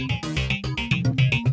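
A short synth loop in Cubase 6 plays rapid arpeggiated notes in a bright, percussive pattern, repeating quickly over about a second and a half.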